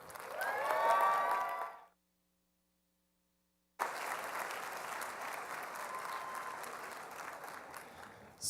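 Audience applause greeting Gear Up West Virginia alumnus Ike Brooks at a student success award event, a loud burst of clapping that breaks off into silence, then resumes as steady sustained clapping from a large crowd.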